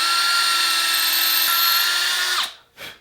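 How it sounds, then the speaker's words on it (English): A power drill pre-drills a small hole in a wooden broom handle, a loud continuous high whine for over two seconds that winds down, then a brief final spin-up. "before you put the screw in, you're going to pre-drill a small hole"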